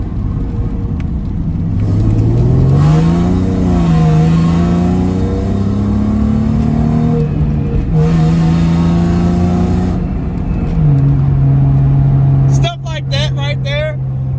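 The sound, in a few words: car accelerating and sliding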